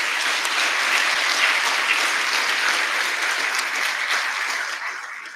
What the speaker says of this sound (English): If you would, join me in a round of applause for these individuals.